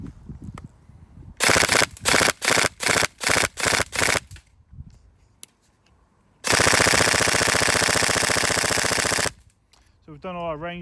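A Tokyo Marui MP5SD6 Next Gen airsoft electric gun fires loud close bursts: a run of short rapid strings, then one long sustained burst, with a brief electronic chirp at the end.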